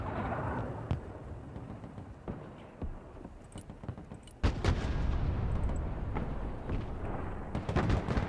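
Artillery fire in the video game Broken Arrow, heavy booms and rumbling impacts recurring through a dense battle din, with a louder, sustained barrage in the second half.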